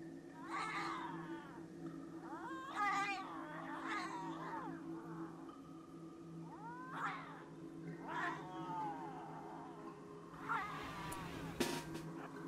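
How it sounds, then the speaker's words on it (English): Several drawn-out cat yowls and meows rise and fall over a steady electronic hum, with a sharp click near the end, from the video game RimWorld. "Cat!"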